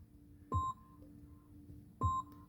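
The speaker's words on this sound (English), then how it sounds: "and it will keep beeping like this" A Polestar 2 sounds its door-open warning inside the car: two clear electronic beeps, each about a fifth of a second long and roughly a second and a half apart, over a quiet cabin hum.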